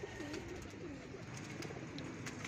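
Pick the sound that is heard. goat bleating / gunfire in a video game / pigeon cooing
pigeon cooing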